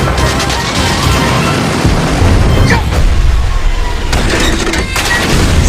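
A fighter plane strafes and blows up the front carriage of a train, heavy booming explosions and crashing bursts with rumbling debris, loud and close, repeated across the clip.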